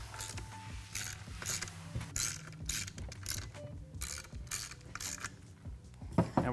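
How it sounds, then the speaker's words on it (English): Screws being tightened on a Ford Bronco twin compressor mount, giving quiet, close bursts of ratcheting clicks with brief pauses between them. "And then we can tighten these screws up."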